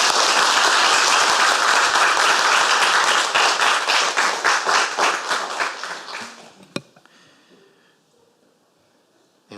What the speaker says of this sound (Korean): 우리 이 시간에 격한 박수로 우리 환영하겠습니다.